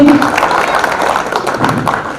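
Applause from the audience at an award programme in Mumbai, a dense spread of clapping that carries on steadily with voices mixed in over it.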